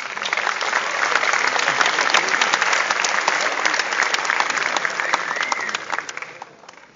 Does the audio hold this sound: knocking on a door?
no